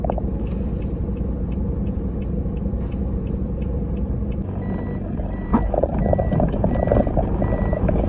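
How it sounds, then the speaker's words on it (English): A dump truck's reversing alarm beeps steadily over a low engine rumble as it clears hurricane debris on the road through Fern Gully, the noise getting louder and busier partway through. "the dump truck's supposed to take up everything"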